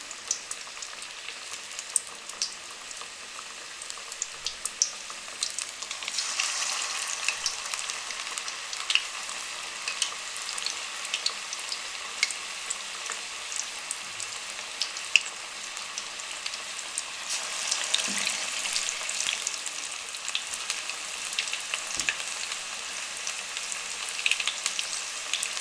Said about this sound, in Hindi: लो फ्लेम पे इसको फ्राई करेंगे।